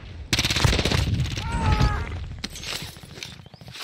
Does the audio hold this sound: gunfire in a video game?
yes